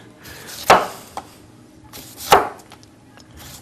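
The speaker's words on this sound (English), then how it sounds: "Chopping onions is real easy." A knife chops through onion on a cutting board in a home kitchen while vegetarian stuffed butternut squash is being prepared, two sharp distinct strikes about a second and a half apart with quiet room tone between.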